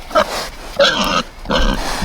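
Pigs digging in the woods give three loud, close, nasal grunts in quick succession, each lasting about half a second with short pauses between.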